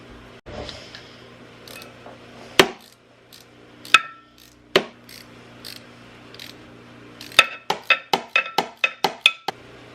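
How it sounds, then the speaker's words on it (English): Metallic ratcheting and clinks from tightening retainer bolts on a Ski-Doo snowmobile crank bearing, a few isolated sharp knocks followed by a rapid even run of ratchet clicks, close up with no voices. "I got those all tightened down evenly"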